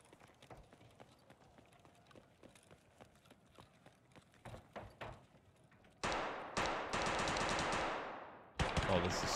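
Rapid gunfire in an Escape from Tarkov Arena match, at first quick scattered shots and footsteps, then a loud sustained burst of automatic fire near the end.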